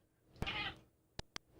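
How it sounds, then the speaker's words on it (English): A cat gives one short, quiet meow, followed by a few faint clicks and taps. "Sound of a cat going bruff in the background all the way through."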